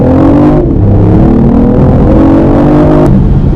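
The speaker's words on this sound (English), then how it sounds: "So from a standstill, a little bit of gas, and we're open." A BMW i8 pulls away from a standstill, its engine note rising in steady pitch sweeps, loud and close from inside the car, with no talking.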